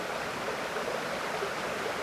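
River flowing below, a continuous broadband rush of moving water that stays steady and even, with no voices over it.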